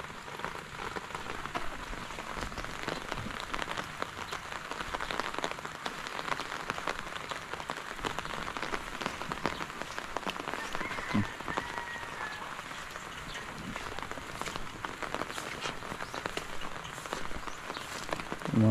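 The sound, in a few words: rain falling on a farm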